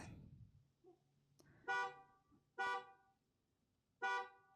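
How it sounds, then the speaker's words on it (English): A neighbour's car horn honks three times in short, evenly spaced toots, heard from outside at a moderate distance in an otherwise quiet room, with no talking. "my neighbor is honking"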